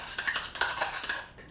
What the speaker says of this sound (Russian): Просто перемешиваем томатную пасту с водой до однородного состояния.